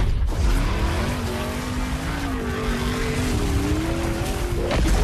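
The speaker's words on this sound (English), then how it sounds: "Trophy truck jumping over" A trophy truck's engine drones loudly in played-back footage, its pitch holding and gently rising alongside a high, drawn-out tire squeal, with broadband rushing noise throughout.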